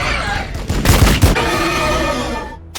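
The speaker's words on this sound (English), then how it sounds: "The sounds of gunfire is great, no matter what gun is being fired." A volley of loud gunshots from the video game Warhammer 40K: Battlesector rings out in rapid bursts, booming and echoing over a dense din of battle noise, then tapering away.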